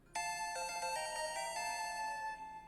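A phone ringtone plays as a voicemail greeting, a bright electronic melody of sustained tonal notes that starts abruptly and runs steadily for a couple of seconds, clear and alone.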